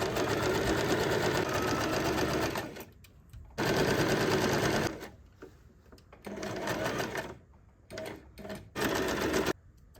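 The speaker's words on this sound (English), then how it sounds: "sew the pinned line on both pieces" A sewing machine stitches along the pinned line of a fabric tote bag panel in several loud bursts of steady, rapid running, separated by brief pauses and short stops.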